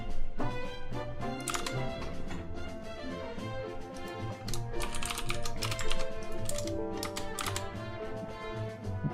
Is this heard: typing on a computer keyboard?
yes